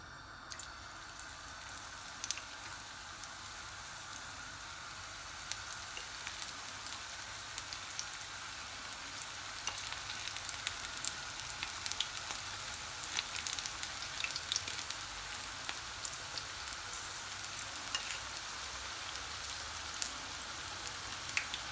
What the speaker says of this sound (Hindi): पैन में मैंने तेल डाल दिया है और तेल गरम हो गया है। अब मैं इसमें पकोड़े डालना शुरू करती हूँ।